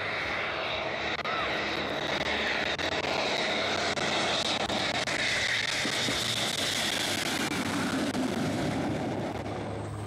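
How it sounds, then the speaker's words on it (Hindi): An Indian Air Force Mirage 2000 fighter jet descending to land on the Yamuna Expressway, its engine roaring in a loud continuous rush of broadband noise with no voices. "जमीन पर उतरने से पहले विमान 100 मीटर नीचे आया और कुछ देर बाद मिराज एक्सप्रेसवे पर लैंड कर चुका था।"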